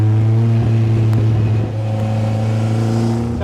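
A 1955 Austin-Healey 100S tribute's engine and side pipe exhaust drone loudly at steady cruising revs, a strong harmonic hum that dips briefly and settles back into an even note.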